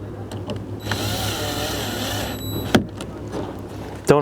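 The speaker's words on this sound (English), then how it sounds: "And then you gotta put this screw back in" Screw driven with a power driver into plastic window trim on a 2015 Subaru Forester, a brief close whirring buzz lasting about two seconds, followed by a couple of sharp clicks and knocks.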